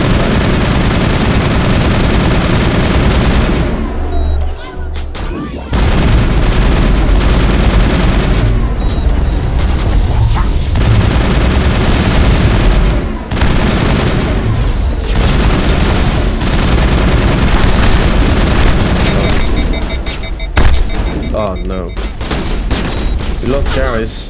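Dense, continuous gunfire and booming blasts from the Mass Effect video game, loud and sustained with brief lulls, overlapping sharp shots and heavier impacts, with some voice chatter mixed under the combat.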